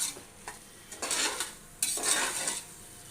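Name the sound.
vegetables being stirred and sautéed for veg biryani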